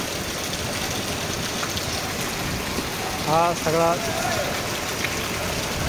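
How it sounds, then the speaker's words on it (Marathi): Heavy rain pours over the grounds of the Sambhajiraje sugar factory with a steady, even hiss throughout. A voice speaks briefly midway. "तुम्हाला व्हिडिओमध्ये एकदम जोरदार पावसाला सुरुवात झालेली आहे"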